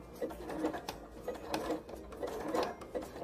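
A sewing machine runs a zigzag stitch of length 2.5 through felt, a steady whirring hum with small rhythmic pulses throughout, close and moderately loud.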